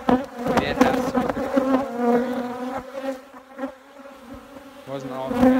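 A dense, droning buzz of many bees, close and continuous, rising and falling in intensity.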